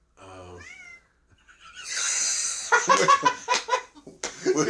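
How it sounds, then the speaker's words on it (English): A cat meows close by, a short harmonic call at the start followed by a brief rising cry, then indoor talk and noisy movement fill the rest. "The cat meowed again."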